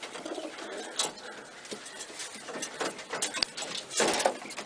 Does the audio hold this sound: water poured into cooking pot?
no